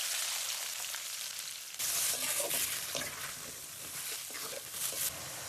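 Sliced onions hitting hot oil in a kadai along with whole spices, a soft crackling sizzle that suddenly swells louder partway through and keeps hissing at a fairly low, even level with no talking.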